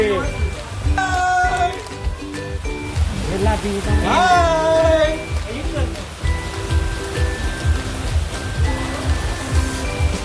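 Steady heavy rain hisses throughout at a farm in Badlapur where children play in it, with people talking over it and a brief musical tone in the background.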